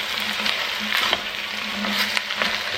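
Potatoes and garlic sizzle steadily in a hot pan, a dense crackling fry with occasional stirring scrapes and clinks, close up and without talk.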